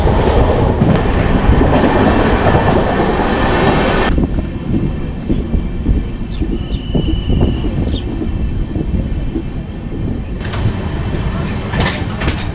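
The Amrit Bharat Express runs at speed with a loud, continuous rumble and rhythmic clatter of wheels on rails, heard from inside the coach, the roar easing slightly partway through.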